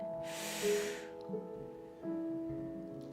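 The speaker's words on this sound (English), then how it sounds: "Breathing in and hold, taking in an extra sip if you can" A deep breath drawn in during a guided breathing meditation, a long airy inhale followed by a held pause, with soft sustained music tones underneath.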